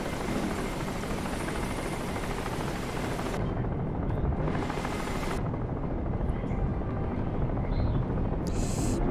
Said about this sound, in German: Ich muss aus dem Wasser raus, weil dieser Helikopter bringt mich sonst um.